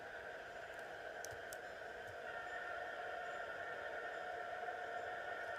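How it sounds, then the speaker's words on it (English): A distant CP SD40-2 freight stack train in the Trainz 2006 railroad simulator rumbles faintly with a steady low drone and hum, far off and quiet. "we have a train in the distance"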